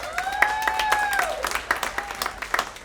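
A comedy club audience applauds at a stand-up show, a steady patter of claps that fades slightly toward the end, with a few whistles over it near the start.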